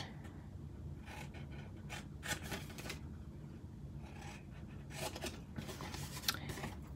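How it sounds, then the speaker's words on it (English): Scissors cut through a paper box template up to the score lines, a soft run of scraping snips in short bursts, close and fairly quiet with no talking. "The rest of these we're just going to cut up to the score line."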